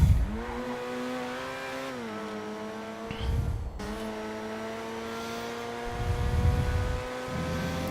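A race car in Grand Theft Auto Online accelerates hard, its loud engine whine climbing in pitch, dropping at two quick gear shifts, then climbing again, with no voices.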